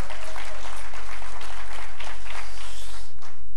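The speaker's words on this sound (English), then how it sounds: "give him a good hand clap." Church congregation applauding after a sermon and music at a resurrection service, a loud, dense wash of many hands clapping steadily throughout, alone without talk.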